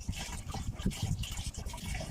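Water is poured off settled akamu (ogi pap) made from popcorn, giving a soft, steady close-up gush and trickle without pauses.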